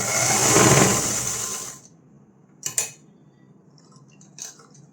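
A sewing machine runs a fast, steady stitching burst through fabric for nearly two seconds, close and loud, then stops; a few short clicks and taps of handling follow in the quiet.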